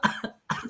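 A person coughs twice in quick succession, close and fairly loud, with a short pause between the bursts.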